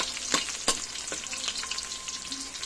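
Onions frying in a pan for a Filipino chicken soup with chayote and pechay, a steady close sizzle with a few sharp stirring clacks, no talk.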